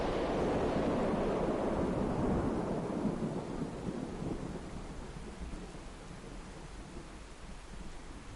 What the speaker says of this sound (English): The sound of the rain's nice anyway, and thunder.